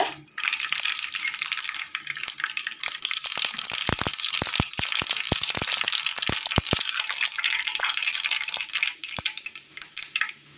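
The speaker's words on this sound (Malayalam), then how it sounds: "അടുപ്പത്ത് പാൻ വെച്ച് കൊടുത്ത് എണ്ണ ഒഴിച്ചു കൊടുക്കാം കടുക്" Mustard seeds spluttering in hot oil in a pan for a Kerala curry, a loud continuous sizzle punctuated by rapid sharp pops and crackles close up.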